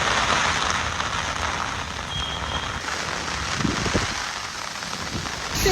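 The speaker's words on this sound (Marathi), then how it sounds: "बेकार पाऊस पडते, माझी हालत खराब झाली आहे ना." Heavy rain pours down outdoors near Seawoods station, a dense, loud, unbroken hiss with scattered drops striking surfaces close by.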